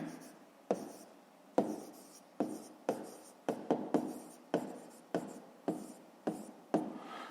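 Pen or pencil writing out a fifth-grade math solution on paper, a quick series of about a dozen short scratchy strokes in an uneven rhythm, close and quiet with no voice.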